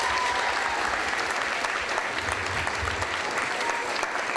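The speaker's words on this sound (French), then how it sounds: "Une bonne main d'applaudissements, tout le monde, s'il vous plaît" Audience applause for the judges at a cosplay masquerade evening, a steady, dense clapping from a large crowd that holds at an even level throughout without letting up.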